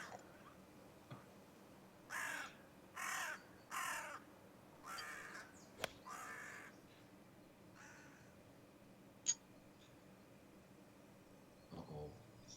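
A crow on a golf course at Galloway National gives a series of about four harsh caws in a row, then a couple of fainter calls, at moderate distance over quiet outdoor ambience with a few clicks and thumps.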